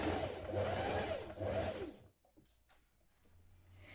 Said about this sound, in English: Now stitch it in place.